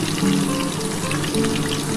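Pieces of mutton frying in a pan with salt and turmeric, a steady hissing crackle that stays even and close throughout.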